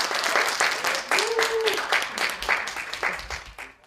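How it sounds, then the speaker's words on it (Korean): Audience applause rises to welcome an economics professor at a public lecture, dense steady clapping from a seated crowd with a voice briefly speaking over it. "큰 박수로 맞이해 주시기 바랍니다."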